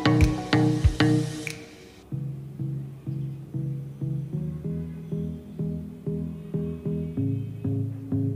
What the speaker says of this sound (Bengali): এখন আমি এর মধ্যে দুধটা মিক্স করে নিচ্ছি।